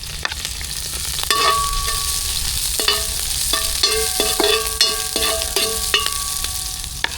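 Onion frying in a very hot pot of oil outdoors in a garden, a continuous loud sizzle with sharp clinks and scrapes of a utensil against the pot, close up and without speech.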